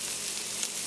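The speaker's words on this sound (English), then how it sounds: "There they are, frying nicely." Tuna fish cakes frying in a pan, a close, steady sizzle and crackle of hot oil, brief and continuous.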